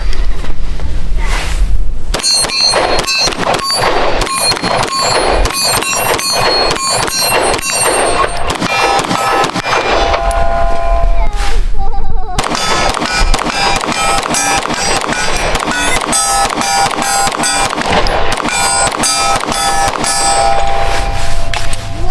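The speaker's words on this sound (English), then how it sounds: "I'm really liking the way this thing's shooting so far" A Ruger pistol fired in rapid strings, sharp loud reports packed closely together with a brief pause around the middle, outdoors at a range, no talk.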